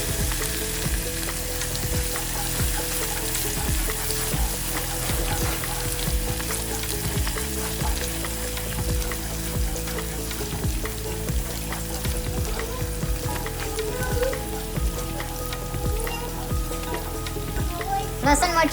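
Garlic-chili paste, curry leaves and a pinch of asafoetida sizzle steadily in hot oil, a continuous crackling fry with soft stirring scrapes throughout.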